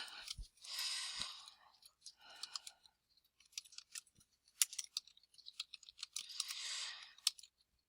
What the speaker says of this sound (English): we're going to type the following items.